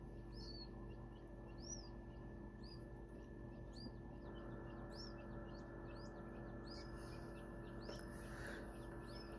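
Quail chicks peep in high, thin, repeated chirps, faint against a steady low hum of an incubator.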